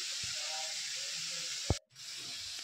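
A pressure cooker boiling banana flowers gives off a steady, fairly loud hiss of steam that cuts out briefly near the end and then resumes.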